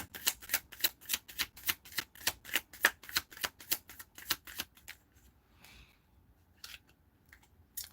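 Tarot cards are riffled and shuffled in a fast, steady run of crisp snaps, then a few scattered softer shuffles trail off, close by.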